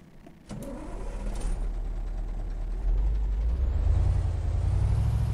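A model 65115 truck starting up, with a click and sharp air release, then an engine rumbling into a steady idle that grows louder and deeper, close by, no talking.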